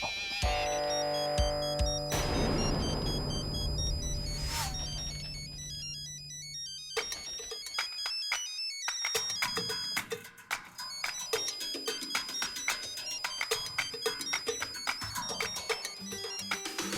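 A phone rings with a loud, melodic electronic ringtone that repeats continuously for many seconds, set in an indoor scene from a Hindi TV drama.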